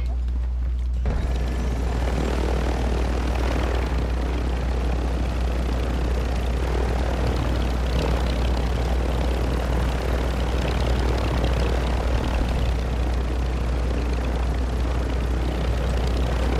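A helicopter's rotor and engine drone loudly and continuously overhead, a heavy, steady throbbing roar that fills the whole stretch near water, with faint voices beneath it.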